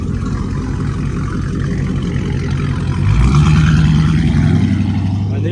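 A Dodge Hellcat V8 at a cars and coffee meet rumbles loudly at idle, then revs once to a deeper, louder roar partway through before settling back, heard nearby without talk.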